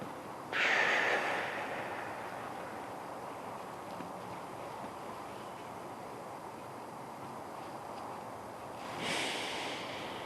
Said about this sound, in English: Here's a deep breath. Hold it at the top.